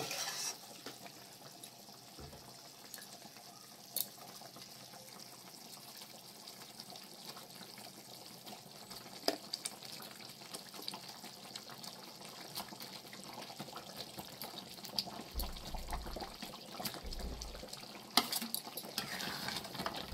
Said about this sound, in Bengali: মাছটা দিয়ে আমি ভালো করে মিক্স করে নিচ্ছি।